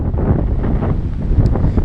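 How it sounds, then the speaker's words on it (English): Strong wind buffets a GoPro Hero 3 microphone outdoors beside a country Baptist church, a loud, continuous low rumble with irregular gusty swells. "It is so windy today."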